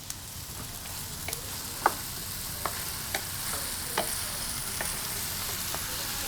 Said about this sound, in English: we're gonna add our Hunt's Petite diced tomato.